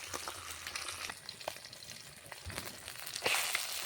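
Salted Chandni fish fry in a small amount of very hot oil in a pan, giving a steady soft crackling sizzle with occasional sharp pops and spatters, close and fairly quiet, with no one talking.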